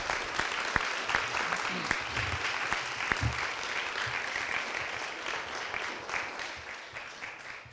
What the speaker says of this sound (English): you all deserve a great round of applause